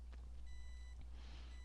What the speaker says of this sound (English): the thing beeps whether you're using it or not, your GPS